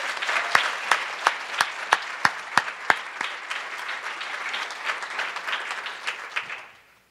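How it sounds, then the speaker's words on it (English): Applause from banquet guests at a scholarship and awards dinner, with several sharp, close individual claps standing out over the crowd's steady clapping before it fades away. "please give them a round of applause"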